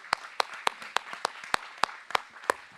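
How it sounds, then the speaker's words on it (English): At a startup pitch event, a small audience claps for the startups, giving sparse, distinct, evenly spaced claps that sound close and light, like only a few people applauding. "Let's give them one more round of applause, everybody."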